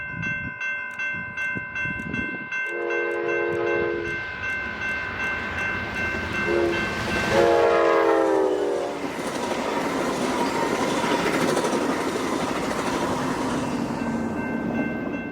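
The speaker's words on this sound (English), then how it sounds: "Next up is 9278 once again on train 702, one of the two trains that goes to Sacramento rather than Oakland." Amtrak San Joaquins train 702, hauled by locomotive 9278 and bound for Sacramento, passes close by with a steady rumble and clatter of wheels, a loud two-tone horn blast near the middle, and the roar fading away toward the end.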